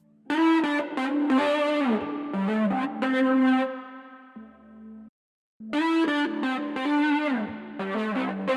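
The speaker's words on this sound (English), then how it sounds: "But I also added this fuzz stomp." Electric guitar chords pushed through a thick, fuzzy distortion, sustained and buzzing, with a brief silence before the riff comes back loud.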